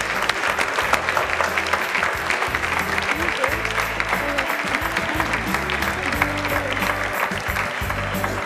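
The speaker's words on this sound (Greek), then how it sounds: "Και χειροκροτούμε από χαρά." An audience at a Greek television show applauds continuously, loud dense clapping with crowd murmur and music underneath throughout.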